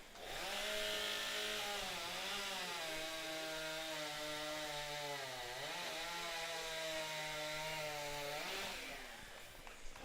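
Several chainsaws rip through wood together at a women's and rookie timbersports championship in New Zealand, their loud, steady whine dipping and rising in pitch as the blades bite in, then cutting off at the end.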